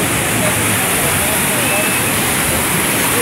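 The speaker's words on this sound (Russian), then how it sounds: "Сегодня очень большие волны" Large sea waves break on Tawaen beach on Koh Larn, a loud, continuous broadband roar of surf filling the whole stretch with no distinct breaks.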